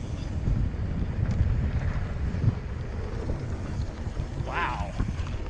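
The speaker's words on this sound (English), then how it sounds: "it's just a little too windy" Gusty wind buffets the microphone at a lakeside bike park, a steady low rumble that runs continuously throughout, with no voices over it.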